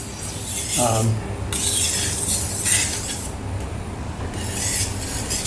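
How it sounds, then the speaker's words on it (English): Knife blade rasping across an 800-grit sharpening stone, loud close strokes in long repeated scraping sweeps, each broad gritty rub followed by a brief lull before the next pass. "I use very, very good knife and also very, very good sharpening stone."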